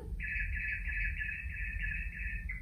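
A single bird sings a steady, high trilling call for about two seconds inside a library, over a low rumbling background hum.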